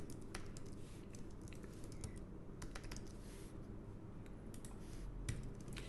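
Steady, fairly quiet keystrokes of someone entering JavaScript code on a computer keyboard, a continuous patter of clicks with a few sharper taps, no voices.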